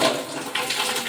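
Water poured from a bucket into a washing machine drum, a steady close splashing and gurgling stream that swells slightly partway through, with no talking.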